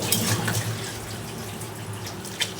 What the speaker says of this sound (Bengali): এই যে দেখো আমি ঝোলের জন্য গরম পানি দিয়ে দিলাম